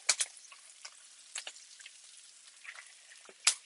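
Trout sizzles in butter in a pan, a quiet, steady crackle broken by a few sharper spits and pops, close up and with no talking.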